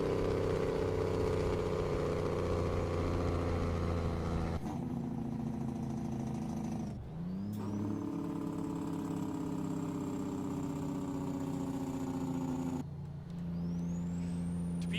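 A simulated heavy truck with a 900 horsepower N14 engine, 264 rear gears and double trailers drones at a steady, loud pitch, broken by two sharp air-brake hisses. No one speaks.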